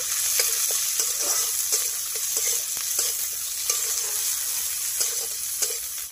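Finely chopped onion sizzles in a pan for palak paneer, a constant frying hiss broken by regular scraping clicks from a spoon stirring it.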